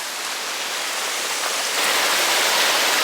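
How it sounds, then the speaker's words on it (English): Hot spring water in Hot Springs, Arkansas rushes downhill in a steady, hissing wash that swells louder partway through, close by and with no talking. "Now look at this, all the spring water rushing down."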